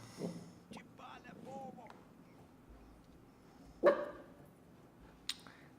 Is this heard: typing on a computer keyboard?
no